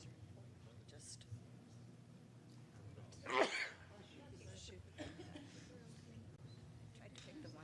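A single sharp sneeze bursts out among a room of general chatter at a state party convention committee session, loud and brief against the low background murmur.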